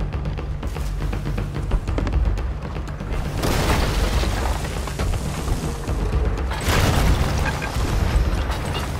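Ship cannons firing in a Sea of Thieves naval battle, heavy booming blasts in a couple of loud bursts over a rough, rumbling background.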